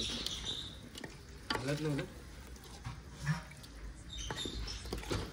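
Thick pav bhaji mixture being stirred and mashed in a pan, a soft scraping and squelching with a faint sizzle throughout, close by, with brief wet scraping strokes.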